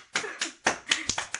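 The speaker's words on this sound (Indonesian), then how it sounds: "oke tunggu-tunggu, tepuk tangan dulu." Sparse hand clapping from a small group, a handful of separate claps with uneven spacing, close and fairly faint in a quiet room.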